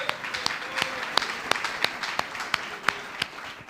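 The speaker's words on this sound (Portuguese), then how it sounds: "Uma salva de palmas ao Espírito Santo" Church congregation clapping during a sermon, a thin scatter of individual claps with a few sharp, distinct hits spaced irregularly over a faint room background.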